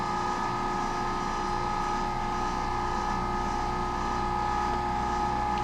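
Electric meat grinder working through jalapenos and wild hog meat for sausage, a steady loud motor drone with a constant hum that runs unbroken throughout, with no talking.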